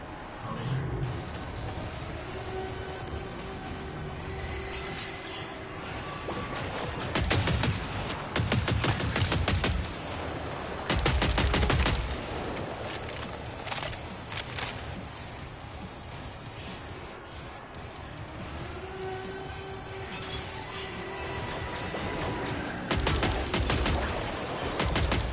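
In Killing Floor 3 on PS5 Pro, an automated turret fires rapid machine-gun bursts in several loud clusters over a constant mechanical background din.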